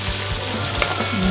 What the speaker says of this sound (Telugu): నెక్స్ట్ మన వెజిటేబుల్స్ అన్నీ వేసేసుకుందామండి